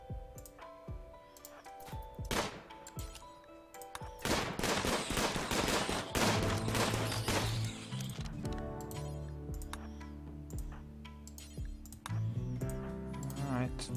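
Gunfire in the colony game RimWorld, with sharp scattered shots that thicken into dense rapid volleys at mid-distance, then ease off beneath a steady background hum and sustained tones.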